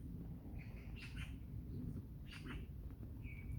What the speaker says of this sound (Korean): 새소리가 참 좋습니다.